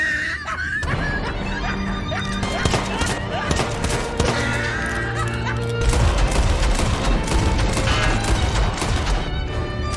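Gunfire rings out in Red Dead Redemption 2's Undead Nightmare as shots are fired at a leviathan from a boat, with rapid, repeated bursts over a busy background of game sounds and voices.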